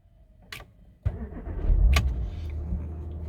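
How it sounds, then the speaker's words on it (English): A Porsche Macan starts up: a couple of sharp clicks, then the engine cranks and catches into a steady idle, close and clear. "Start the vehicle"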